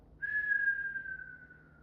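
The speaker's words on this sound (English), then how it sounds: "Whistle out the mouth." A single steady whistle of breath blown out through the mouth during a relaxation practice, clear and close, holding one pitch for well over a second before slowly fading.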